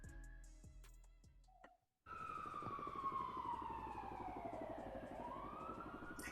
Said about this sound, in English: at first when I heard the sirens